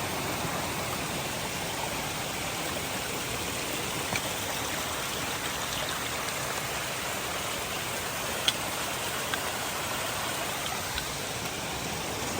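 Steady rushing of a clear mountain stream on the Appalachian Trail near Erwin, Tennessee, a constant close hiss and babble without pause and with no voices.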